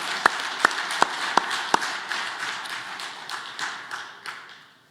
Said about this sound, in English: another round of applause for the fleet managers and the driver team that they are